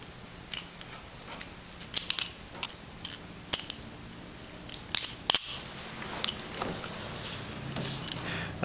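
A Balibalistic flipper knife prototype is flipped open and handled close up, giving crisp metallic clicks and snaps at irregular intervals, some in quick pairs, over a quiet background.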